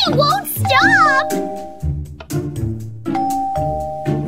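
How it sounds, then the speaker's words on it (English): A ding-dong doorbell sounds repeatedly in a Minecraft game while excited children's voices talk over it. "It keeps ringing the doorbell!"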